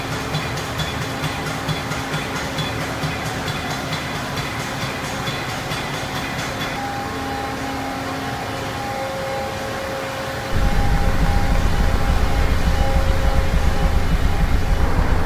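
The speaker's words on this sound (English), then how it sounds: "we do this by rocking the tractor at varied speeds and intensities, which simulates field conditions from normal to extreme" A tractor is rocked on a jounce test rig in an AGCO factory, giving a steady, loud mechanical roar with faint tonal whines that jumps to a heavier, deeper rumble near the end, with no talking.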